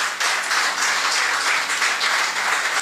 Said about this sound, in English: Could you please give him another round of applause?